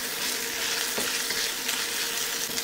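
Beef stir-frying with carrot and spring onion in a hot pan, a loud continuous sizzle with brief scraping stirs, close and alone.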